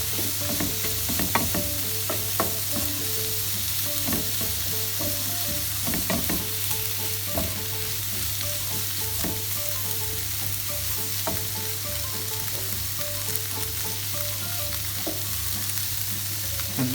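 A gnocchi mixture seasoned with salt, pepper and thyme sizzles in a hot pan as it is stirred, with a steady fry hiss broken by repeated scraping and clacking strokes of the spoon, and no talking.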